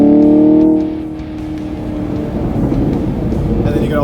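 A 2020 Chevy Camaro 2SS V8 exhaust rev-matching down a gear under light braking, a loud harmonic tone dropping away into a sustained rumble with crackling gurgles and pops near the microphone.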